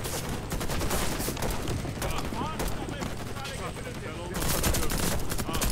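Rapid automatic gunfire in the Warface video game, dense overlapping bursts that run continuously and swell louder near the end, with a voice talking over parts of it.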